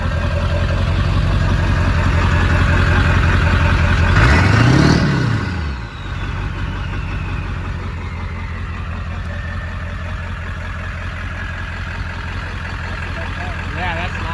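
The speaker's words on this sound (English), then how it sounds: "Let's hear the exhaust." A 1997 Ford 7.3 Powerstroke diesel truck idles with a low, rumbling exhaust throb, steady and close, with a brief swell of a passing vehicle early on.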